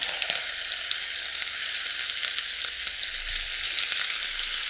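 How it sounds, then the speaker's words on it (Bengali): Two cut tomatoes and four or five garlic cloves fry in oil in a pan, giving a steady, close, hissing sizzle with a few soft crackles and no voices. "উল্টে পাল্টিয়ে সুন্দরভাবে নরম হওয়া পর্যন্ত আপনার প্রায় এগুলো ভেজে নেবেন।"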